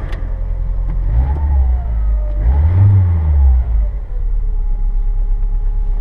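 A car's engine surges loud and close as the transmission kicks down, the revs climbing and falling in one strong swell before settling back to a steady drone.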